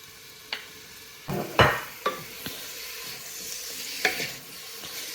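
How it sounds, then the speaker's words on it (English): Steady hiss of ham sizzling in a pan for pea and ham soup, with occasional utensil scrapes and taps, close and moderately quiet. "Hear the sizzling now."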